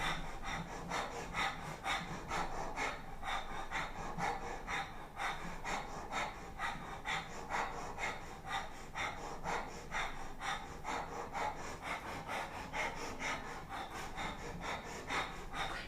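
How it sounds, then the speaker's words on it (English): Short, sharp breaths pumped in and out through the nose during a kundalini kriya, a quick, steady, rhythmic stream of soft huffs, close and fairly faint, with no talk. "Short, sharp pumps of the navel, breath coming in and out of the nose"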